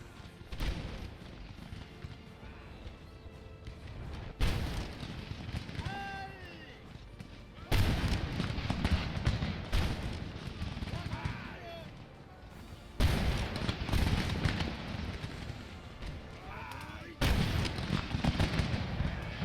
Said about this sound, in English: It's always fun to watch the fire by rank take place.